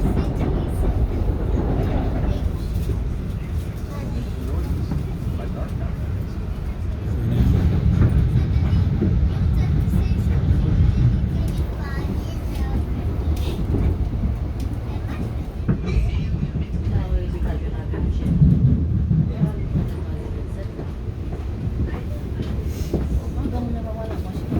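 Commuter train on the Grand Central to New Haven line rumbling along steadily, a continuous low roar with faint clicking of wheels over track joints.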